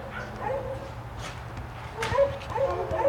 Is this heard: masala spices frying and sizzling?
no